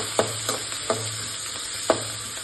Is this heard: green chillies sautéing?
yes